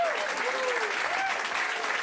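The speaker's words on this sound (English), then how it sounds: "Give him a big round of applause." Audience at a magic show applauds a volunteer called up on stage, a steady burst of clapping with a few voices calling out above it.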